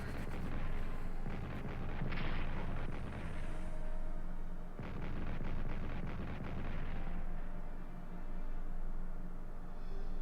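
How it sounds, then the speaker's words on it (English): French artillery fire in the World War I strategy game Strategic Command: World War I, two long barrages of rapid booming shots with rolling rumble between, loud and continuous, no talking. "So first the French artillery."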